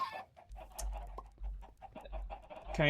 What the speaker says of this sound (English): So there's just random chickens roaming around.